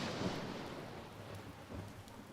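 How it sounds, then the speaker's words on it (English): Rain and rolling thunder in the game Empyrion Galactic Survival: a steady, moderately faint hiss of rainfall with low rumbles swelling underneath, no voices. "it's starting to rain now"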